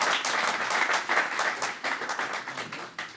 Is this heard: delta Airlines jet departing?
no